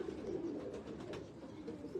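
Teddy-breed pigeons at a breeder's loft giving a faint, continuous low cooing with no talk over it.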